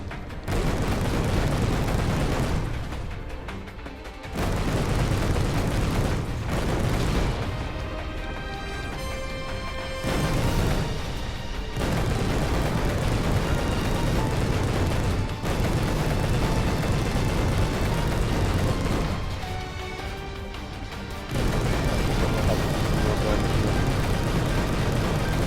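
Machines are destroyed at an imperial base in the video game Final Fantasy XV, sending out loud, booming explosions and heavy bursts in dense stretches, with brief quieter gaps between the blasts.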